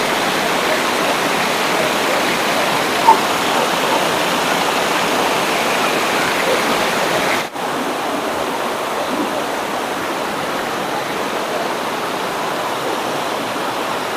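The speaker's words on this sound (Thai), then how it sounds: "จะมีน้ำไหลอยู่ตลอดทั้งปีครับ" Water pours steadily over the Pang Sawan weir, a dam across a canal fed by the Pang Sawan waterfall in Ban Rai, giving a constant close rushing wash with one brief dip, no talk.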